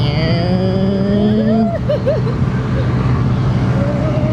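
A Honda Navi motorbike at full throttle on a dusty uphill dirt road, its engine droning loud and steady with a rising whine that swoops and wavers, under continuous rumble of wind and road.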